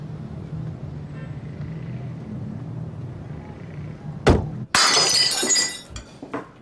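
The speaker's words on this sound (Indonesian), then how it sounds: "Itu piring pecah semua tuh." Plates smash on the floor in a sudden crash, followed by a long bright scatter of breaking crockery and a few smaller clinks, loud and close after a quiet low hum.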